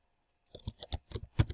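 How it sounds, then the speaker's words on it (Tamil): Several quick, faint clicks of keys being tapped on a computer keyboard follow a short silence, in an uneven typing rhythm. "இப்போ இங்கே வந்து டைப் பண்ணுறேன்"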